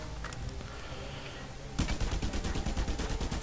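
Gunfire in the video game Just Cause 2: a quieter stretch of game ambience gives way to a rapid, loud burst of repeated automatic shots, evenly spaced like a machine gun, with no voice over it.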